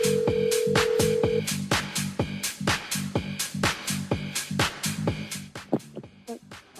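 A telephone tone sounds briefly at the start, then a rapid run of sharp clicking pulses follows, steady and close, like a call being dialed.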